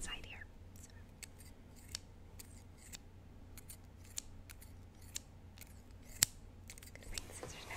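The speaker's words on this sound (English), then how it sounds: "I'm going to bring the scissors back out." Scissors snip repeatedly as they cut open a fitness program package, crisp close clicks spaced out at an uneven pace in a very quiet room, with soft whispering at times.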